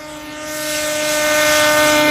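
Race snowmobile with a 600 RS engine at full throttle, a loud, steady high-pitched two-stroke whine that builds in volume and holds for the whole two seconds with no talking.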